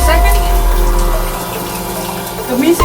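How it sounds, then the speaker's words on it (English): Water runs steadily from a shower in a bathroom, a loud continuous spray and splash filling the whole moment with a low rumbling wash. "Pretty much taking a regular shower."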